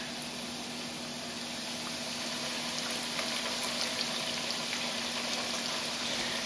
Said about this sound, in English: Now Jay's got me deep frying it all up.